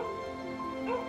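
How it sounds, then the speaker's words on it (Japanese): A dog barks and whimpers in the video game Gravity Daze 2. Short yips sound over a steady tonal game soundtrack. "そんなに吠えたらダメ、この子が怖がってるよ"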